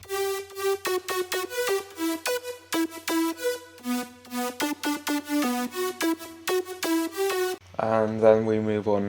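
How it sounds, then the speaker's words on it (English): An electronic drop melody of bright synth notes plays alone in a quick, punchy rhythm of short stabs for about seven seconds, then a brief, dense synth passage takes over. "So the drop melody sounds like this"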